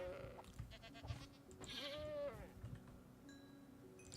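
A baby goat in Minecraft Bedrock bleats once in a clear, wavering cry near the middle, set against low game background noise and scattered soft clicks.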